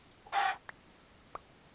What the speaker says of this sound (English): You got like 20 chickens in one spot.